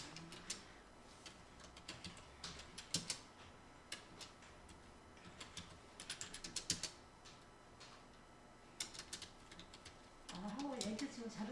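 Someone types on a computer keyboard, entering data into a spreadsheet. Fast clusters of close, crisp key clicks come in irregular bursts and end in firmer keystrokes. Low voice murmurs sit in the background and a short vocal sound is heard near the end.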